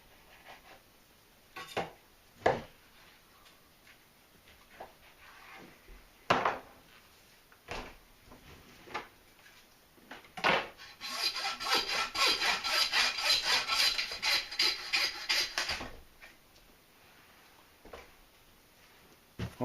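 A knife works around the bone of a butchered deer, with scattered scraping strokes at first, then a close, steady burst of rapid rasping cuts lasting several seconds before it tapers off.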